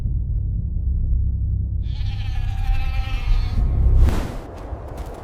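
A goat lets out a single drawn-out, quavering bleat over a low rumbling background, followed by a short burst of broadband noise.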